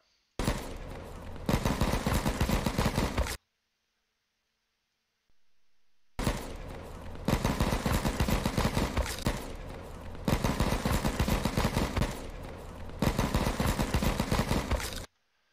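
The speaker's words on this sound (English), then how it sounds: "The AK, as you can tell, is full rip. It's on auto." An AK rifle fires on full auto in a first-person shooter, loud sustained bursts of rapid gunfire in several long strings separated by a few seconds of near silence.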